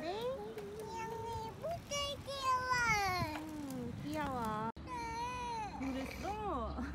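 A cat meows several times in drawn-out, rising and falling calls, mixed with the voices of a child and an adult speaking nearby.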